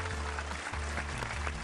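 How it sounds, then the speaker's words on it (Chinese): Applause for children at a televised kids' show medal ceremony, steady clapping under a low sustained hum and background music, with no clear gaps. "再次为他们鼓鼓掌"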